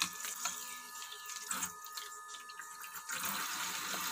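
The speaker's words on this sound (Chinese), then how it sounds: "还要再来用清水冲洗一遍" Tap water runs steadily into a sink while plates and bowls from a fish dinner are rinsed of leftover dish soap, a faint continuous splash with small bursts as dishes pass under the stream.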